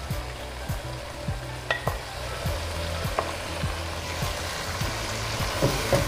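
Chopped onions and green chillies sizzle in a pan of apple gourd and meat curry, a steady frying hiss with occasional stirring scrapes and spoon taps, close and continuous.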